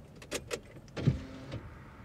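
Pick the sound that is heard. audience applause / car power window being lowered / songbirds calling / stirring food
car power window being lowered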